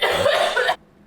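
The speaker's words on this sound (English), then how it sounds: "That was a little bit of me coughing" A single harsh cough, loud and close, lasting under a second before cutting to near silence.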